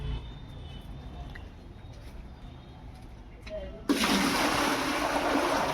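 Water filling into a bucket, a quiet domestic background that abruptly gives way to a loud, steady rushing gush of water pouring in close by.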